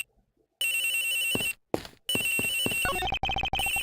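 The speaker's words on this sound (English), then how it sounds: "The ringing is coming from somewhere in here, sir." In the video game Ace Attorney Investigations, a cell phone rings inside a locker, giving a loud, bright electronic ringtone with repeated tonal bursts and short gaps.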